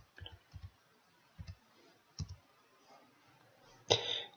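Computer mouse clicks on a desktop, several short sharp clicks spaced irregularly over a few seconds, close and fairly quiet, with a louder click and brief rustle near the end.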